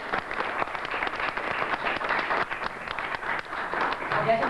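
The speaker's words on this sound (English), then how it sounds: "I'd like to give you guys a chance to give him a round of applause" A convention crowd at a 1996 Planet of the Apes event gives a sustained round of applause, a continuous broadband clatter of many hands at moderate loudness, with some voices beneath it.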